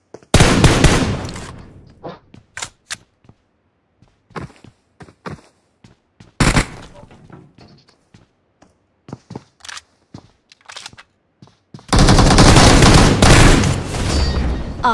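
Gunfire in the mobile battle royale game Battlegrounds Mobile India: a loud sustained burst opens, followed by scattered single shots and thuds, then another long heavy volley at the end, all close.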